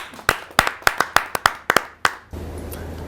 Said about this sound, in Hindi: आपके जोरदार तालियां मिले श्री आदेश त्यागी जी